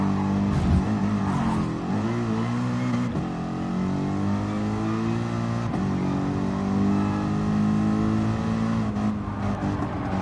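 A FIA GT Gr.3 race car engine in Gran Turismo Sport heard onboard during a race, rising and falling as it accelerates through the gears with clear shift drops, loud and continuous with no talk.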